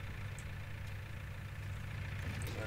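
Tractor engine idling in Farming Simulator 19, a steady low faint hum with no change in pitch, playing alone.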